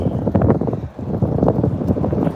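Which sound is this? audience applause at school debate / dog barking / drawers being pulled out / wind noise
wind noise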